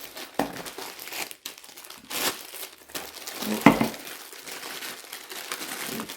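Crinkly plastic packaging being pulled open from a new Dyson Cinetic Big Ball corded vacuum cleaner in short bursts, with a sharper crackle midway, close up and no talking.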